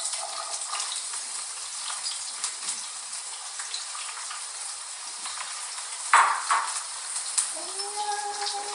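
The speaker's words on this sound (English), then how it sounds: "Saute" A seasoning mixture sautéing for a Jamaican saltfish dish, a faint steady sizzle with light stirring and a brief sharper clatter near the end.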